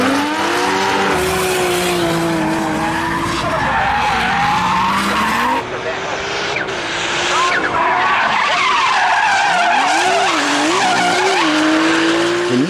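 A Nissan Skyline R34 drifts with sustained, loud tire squeal that rises and falls in pitch over a revving engine, continuing for over twelve seconds with wavering screeches as the car slides.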